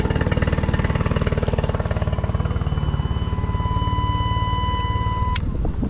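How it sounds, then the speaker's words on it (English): A Honda 20 outboard motor keeps up a steady low running pulse while a loud, continuous high electronic beep from its overheat alarm sounds over it, cutting off near the end as the engine carries on. "I think that's an overheating alarm"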